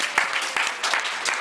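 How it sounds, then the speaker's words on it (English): A live podcast audience claps at a Christmas-edition RedIn30 taping, dense steady applause with a few sharper bursts of hand claps, close and with no voices over it. "You know, so clap it up for yourself."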